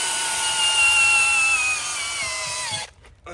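A power screwdriver drives a screw in one steady, loud whining run whose pitch sags slightly as the screw tightens, then cuts off abruptly near the end.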